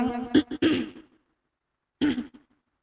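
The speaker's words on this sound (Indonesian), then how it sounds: "yang ngomong batuk" A few rough throat-clearing coughs close to the microphone, a burst of harsh coughs followed after a pause by one more short cough.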